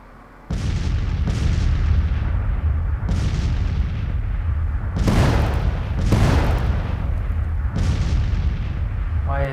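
Civil War artillery in the strategy game Grand Tactician fires a series of heavy cannon booms, about seven distinct blasts at irregular intervals, each with a rumbling tail, over continuous low battlefield rumble.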